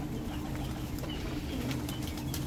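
A flock of pigeons feeds on scattered grain among chicks, with a busy, continuous rustle of wings flapping and shuffling close by, soft cooing mixed in.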